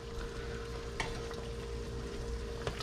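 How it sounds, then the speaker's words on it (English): Green salsa simmers uncovered in a pan, a quiet steady bubbling and soft sizzle with a couple of faint clicks, no voices. "we're just going to let it simmer like this for a little while, uncovered"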